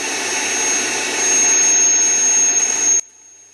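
A cheap Mirka-knockoff random orbit sander runs with its dust hose attached, giving a loud, steady whine with a piercing high squeal for about three seconds before cutting off abruptly.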